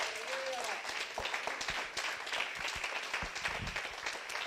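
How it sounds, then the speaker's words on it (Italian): A church congregation at a live gospel service applauds for Jesus, sustained mixed clapping filling the room with voices calling out over it. "Io amo fare un applauso a Gesù questa sera."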